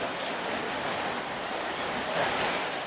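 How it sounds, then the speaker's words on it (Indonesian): Steady rain falls outdoors during a rainy ride between Manggarupi and Samata, with dense, even hiss of drops hitting surfaces throughout and a brief brighter splash or patter near the end; no talking. "Ini sudah hujan."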